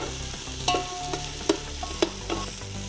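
Whole spices stir-fried in a pan, a steady sizzle broken by several sharp clinks and scrapes of a spoon against the metal, close and fairly loud with no talking.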